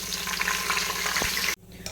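Green chillies and whole spices such as shahi jeera and kalpasi fry in hot oil, a steady close sizzle with stirring scrapes that cuts off abruptly near the end, then returns faintly.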